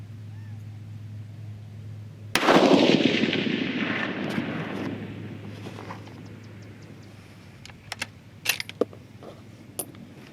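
Rifle shot during powder charge weight load testing at a shooting range, one loud sharp report with a long rolling decay, followed by faint clicks and light metallic handling sounds.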